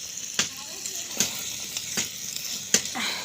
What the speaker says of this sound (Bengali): মাংস মানে চিকেন হচ্ছে, চিকেন এখন কষানো চলছে